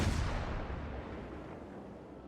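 A broadside from the naval guns of the cruiser Marblehead in World of Warships: one deep booming salvo that rolls out and fades over a couple of seconds.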